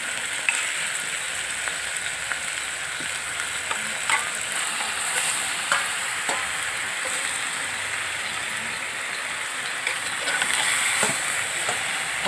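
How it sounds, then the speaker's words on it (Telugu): Mutton head meat with onions frying in a pan, a steady dense sizzle with occasional crackles and stirring scrapes, close and continuous throughout with no talk. "ఇది ఉల్లిపాయలతోనే ఇది కూడా వేగాలండి"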